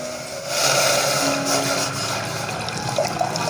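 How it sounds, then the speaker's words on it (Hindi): About 300 ml of water poured into a pot sitting on a stove, a steady broadband splashing rush that starts after half a second and continues to the end, moderately loud and close, with no talking. "अब इसमें पानी शामिल करते हैं।"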